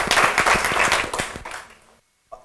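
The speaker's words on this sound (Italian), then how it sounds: "facciamogli un applauso" An audience claps steadily for about a second and a half, then the applause thins and fades into silence, followed by a faint sound near the end.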